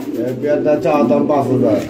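Pigeons at a Bangladeshi breeder's sale coo nearby, soft rolling throaty calls repeating in short low phrases, with a male and female pair present and no clear talk over them.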